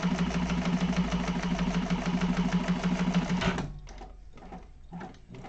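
A sewing machine runs a steady, fast top stitch along the first fold line of a fabric organizer bag, then stops abruptly, leaving quieter handling noises.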